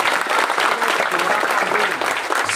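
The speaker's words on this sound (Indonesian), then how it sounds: "ya tepuk tangan dulu buat Merden." Audience applause at a village religious gathering (pengajian) in Merden, Banjarnegara, a steady dense wash of clapping from a crowd filling the whole moment, loud and close, with some voices mixed in.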